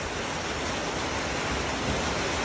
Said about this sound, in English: You can hear that rain, it's pouring down